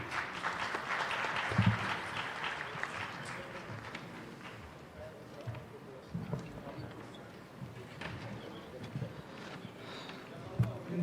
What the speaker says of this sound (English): Give a big round of applause for all of our